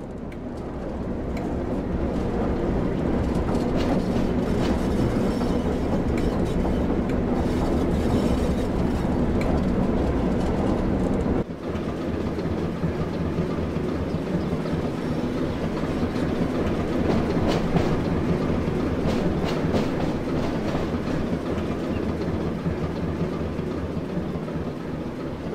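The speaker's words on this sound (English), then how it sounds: "With the train now moving, it's possible to apply more power and focus on achieving a desired speed." A Class 08 shunting locomotive on the Tees Valley Line in Train Sim World 2 moves along with a continuous loud engine drone and wheel clatter, its tone shifting abruptly about halfway through, with no talking.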